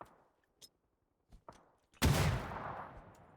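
A few sharp, isolated gunshots in a PUBG match crack out in quick succession. Then a loud burst erupts and rings out with a lingering, fading tail.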